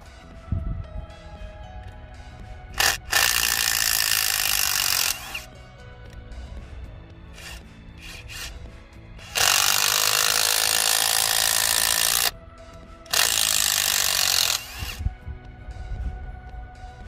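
A Parkside Performance 20V cordless impact driver rated at 226 Nm loosening and then re-tightening a fastener, giving loud close hammering bursts of several seconds each, separated by pauses and short clicks.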